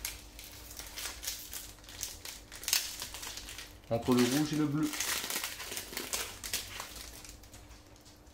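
Plastic wrappers of promo Pokémon booster packs, with leftover tape stuck on, crinkle and rustle close by as someone struggles to open one, with a louder burst of crackling midway while a person talks.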